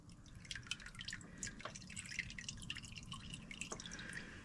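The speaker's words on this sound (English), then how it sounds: "once it is loose, it'll come out just like that. Dump your oil in your pan." Engine oil from a 2018 Toyota Highlander pours and drips into a drain pan, a steady close trickle with scattered splashy drops and no talk.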